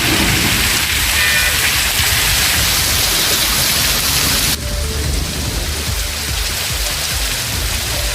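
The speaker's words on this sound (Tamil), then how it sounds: "திருநெல்வேலி மாவட்டத்திலும் பரவலாக பெய்த கனமழையால் தாழ்வான பகுதிகளில் மழைநீர் தேங்கியது." Heavy rain pours steadily and loudly across a district in Tamil Nadu, a dense unbroken hiss that fills the whole stretch without any voices.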